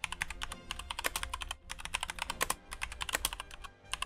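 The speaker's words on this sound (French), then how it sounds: "c'est le bruit que fait le clavier lorsque vous écrivez" Rapid, clacky typing on a mechanical keyboard, close to the mic, keys striking in quick uneven bursts with brief pauses.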